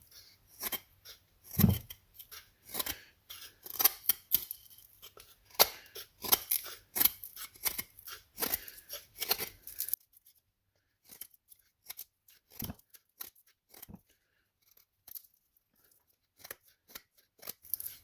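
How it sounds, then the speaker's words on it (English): A Spyderco PM2 pocketknife with an M4 steel blade whittles a pine block, making crisp, close shaving and cutting sounds in rapid irregular strokes that thin out to sparse, quieter cuts in the later half. "Do some whittling into this pine block here."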